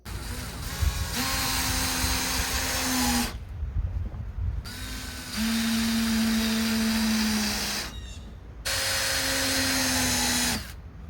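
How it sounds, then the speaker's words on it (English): A power drill drives screws through wooden fence panels into the backer rails, whirring in three loud sustained bursts, each ending in a brief pause. "make sure that when installing the screws, they are connecting to the backer rails behind the panels"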